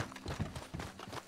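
In the video game Red Dead Redemption 2, horse hooves clip-clop in a quick, faint rhythm of several soft hoofbeats on the ground, with no one talking.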